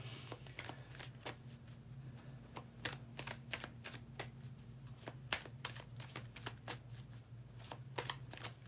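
Tarot cards being shuffled by hand, close up: a long run of quick, crisp riffling taps at an uneven rhythm, with no one talking.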